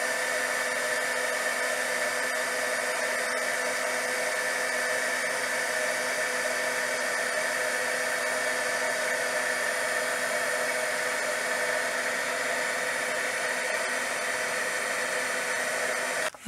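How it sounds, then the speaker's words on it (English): An embossing heat tool blows a steady, loud whirring hiss as it heats embossing powder on a card, continuous and close for the whole stretch before cutting off abruptly at the end. "So let's go over here to my heating tool and I'll show you how this works."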